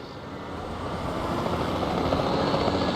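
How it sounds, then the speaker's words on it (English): A helicopter flies in the video game Jurassic World Evolution 2, its rotor and engine a steady, droning whir that swells gradually louder, with no voices over it. "I'm gonna take my chopper"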